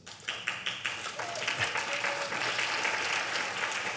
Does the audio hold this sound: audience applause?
yes